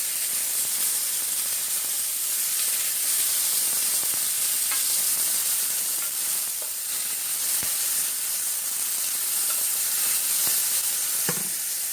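Spanish onions fry over high heat in a pan, a loud, dense, continuous sizzle and hiss close up, with a few faint clicks and no talking.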